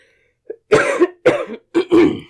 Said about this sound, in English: there's another cough